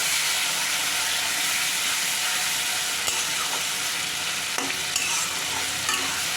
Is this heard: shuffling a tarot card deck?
no